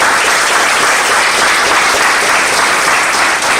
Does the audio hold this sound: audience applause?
yes